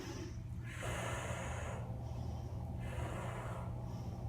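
Close, quiet breaths during a Pilates hip exercise on a mat, a few soft airy inhales and exhales in a slow rhythm over low background hum.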